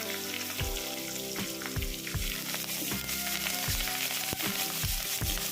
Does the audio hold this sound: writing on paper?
no